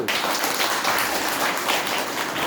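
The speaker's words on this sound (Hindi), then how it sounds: "तो कबीर दास के लिए ताली बजा दो" An audience applauds in honour of the poet Kabir Das, a steady wash of clapping that holds evenly for a couple of seconds with no voices over it.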